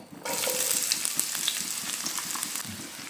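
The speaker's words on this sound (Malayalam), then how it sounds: "അതിലേക്ക് ഒരു മീഡിയം സവാള ചെറുതാക്കി അരിഞ്ഞത് ഇട്ട് കൊടുക്കാം" Chopped onion drops into hot coconut oil for a brinjal dish and bursts into a loud, close sizzle that continues evenly, with faint stirring clinks underneath.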